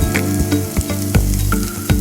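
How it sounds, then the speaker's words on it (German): Hot oil sizzles loudly in a pan with bay leaves and squid ink, a steady close frying hiss punctuated by sharp pops and stirring clicks, with no talking. "Öl erhitzen in eine Pfanne. Gebe ich dann auch Lorbeerblätter dazu und Sepia-Tinte."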